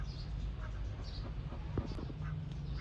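Ducks raised for about two months on a Thai duck farm give faint, scattered quacks against a steady low background hum, with no clear talking over them.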